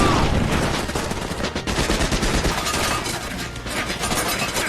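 Dense, sustained film gunfire roars throughout, a continuous fusillade of overlapping shots with booming low end and no pauses.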